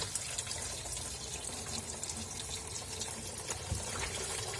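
Steady splashing and gurgling water runs continuously at a low level as it drains out of an MGF car engine during a timing belt and water pump replacement.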